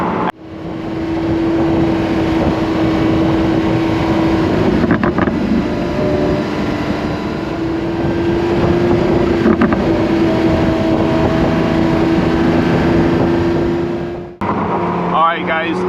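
Lamborghini Aventador SVJ on the move, a loud sustained engine drone with a steady tonal whine and road and wind rumble that dips briefly, then cuts out near the end.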